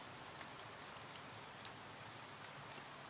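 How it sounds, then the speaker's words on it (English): Gentle rain patters on a window sill as a quiet, steady, even wash of drops with a few faint, slightly sharper ticks, no voices. "to listen to the gentle pattering of raindrops on the window's sill"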